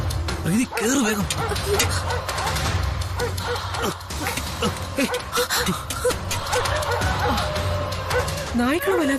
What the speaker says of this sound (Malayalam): നായ്ക്കൾ വല്ലാതെ കുരയ്ക്കുന്നുണ്ടല്ലോ.